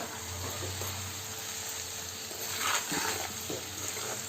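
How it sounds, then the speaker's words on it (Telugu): Chili powder stirred into a frying natu mushroom curry in a pan produces a steady, close sizzle with a few louder spoon scrapes and bubbling stirs partway through. "నేనైతే ఇప్పుడు కారం వేస్తున్నా కలుపుకోవాలండి"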